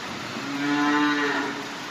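A cow lets out a single drawn-out moo, close and clear, as the cattle are led out of the barn into the rain.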